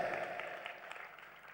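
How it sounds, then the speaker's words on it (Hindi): Audience applause at a satsang during the Shri Kalki Mahotsav, a steady wash of many hands clapping at moderate distance, fairly even throughout with no voices over it. "ऐसे ताली बजाते हो जैसे कोई पाप करके आए हो"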